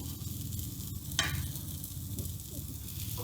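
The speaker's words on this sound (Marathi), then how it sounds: "मसाला पाव हे असे छान शेकून घ्यायचे आहेत" Masala pav stuffed with filling toasting in a pan on a low flame, giving a steady soft sizzle with light stirring and scraping throughout.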